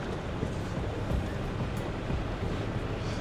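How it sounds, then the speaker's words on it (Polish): Steady rushing and splashing of water with a low rumbling drone as a vehicle pushes through shallow water in Ethiopia's Danakil desert, with wind noise throughout. "Wjeżdżamy do wody."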